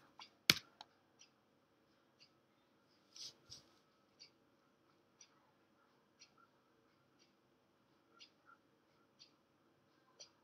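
Sparse, isolated key clicks on a computer keyboard, each one faint and crisp, spaced irregularly about one per second. The room is quiet between them and there is no talking.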